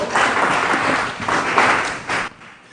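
A church congregation claps together at a service, a steady wash of applause that rises and falls in waves before fading out near the end.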